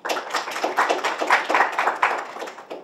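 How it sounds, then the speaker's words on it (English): A small audience at a seminar applauds a speaker being introduced, with distinct, uneven individual hand claps in a loose, ragged rhythm that rise and fade over a few seconds, heard alone and close. "Let's have a round of applause for him."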